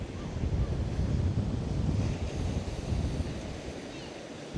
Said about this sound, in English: I swear it seems like the further you come out the pier, the stiffer the wind gets.